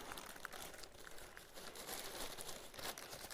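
Plastic packaging on a parcel from AliExpress crinkles and rustles continuously as it is unpacked, close and fairly soft, with no speech.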